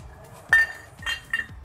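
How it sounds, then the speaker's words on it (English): Honda CRF250L motorcycle brake caliper pulled apart from its bracket, giving three short metallic clinks spaced about half a second apart, close and fairly quiet with no talking. "Separate the caliper from the caliper bracket."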